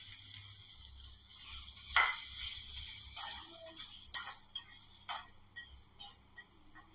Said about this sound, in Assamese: এয়া পিঁয়াজটো ভাজি আছোঁ।